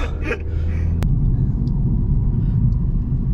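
An Audi S1 hatchback drives along with a low, steady road and engine rumble, a sharp click partway through, then continued rolling drone as it slows under braking; no talking.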